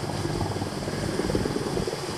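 A helicopter passes overhead above a village fishing spot in Indonesia, a loud continuous rotor thrum and engine whine filling the air, steady throughout with no talking.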